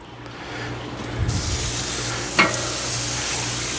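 Thick ribeye steaks laid onto a hot charcoal grill, a Grilla Grills Kong, burst into a loud, steady sizzle that swells after a second and holds with a few sharp crackles, with no voices.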